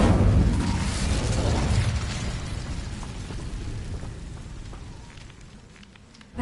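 The Incendio fire spell in Hogwarts Legacy, heard as a loud burst of roaring, crackling flame that slowly fades into a fizzing rumble.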